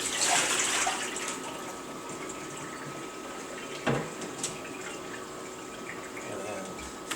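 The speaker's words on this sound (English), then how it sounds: "I'm going to dump the water out of here now." Water is dumped out of a container during bacon curing, a steady close splash and rush. It is strongest at the start, then settles into a softer trickle, with a brief clunk partway through.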